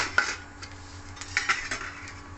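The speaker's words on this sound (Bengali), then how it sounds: "এরপরে চাটু বসিয়েছি, চাটুতে দিয়ে দিচ্ছি সাদা তেল" A metal tawa is set on a stove and oil is added, giving a few light clinks and taps of cookware over faint background hiss, close and quiet.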